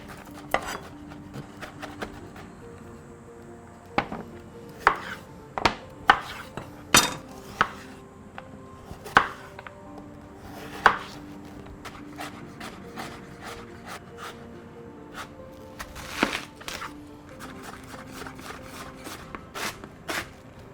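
A knife chopping garlic on a cutting board for a Filipino squid ink noodle stir fry, irregular sharp taps in bursts across the stretch with quiet scraping between.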